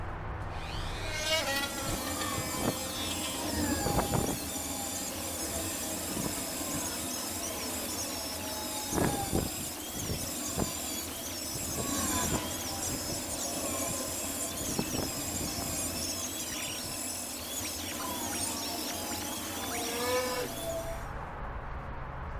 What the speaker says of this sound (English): all the heavy work I'm going to use the Dremel for